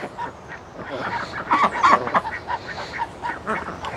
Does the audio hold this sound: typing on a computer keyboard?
no